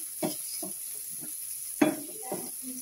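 Food fried in a pan with soy sauce, a steady soft sizzle broken by several scraping stirs of a utensil against the pan, close and without talk.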